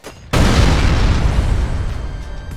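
Modded explosion in GTA San Andreas: a sudden loud boom bursts in after a quiet lead-in, then a long, dense rumbling roar that stays heavy and sustained to the end.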